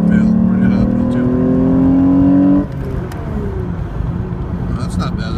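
A VW VR6 engine pulls hard uphill in second gear from 2000 RPM, its rising drone loud and close inside the car before the revs drop off and it settles into a lower hum.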